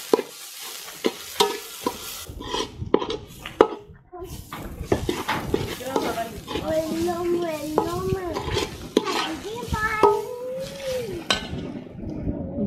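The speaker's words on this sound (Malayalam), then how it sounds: "ഇനി നമുക്ക് നന്നായിട്ടത് മിക്സ് ചെയ്തെടുക്കാം." Chicken cutlet mixture being mixed with spices, a run of scrapes, clanks and wet stirring knocks against a pot, close and uneven, with brief voice-like sounds over the later stirring.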